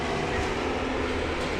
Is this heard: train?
yes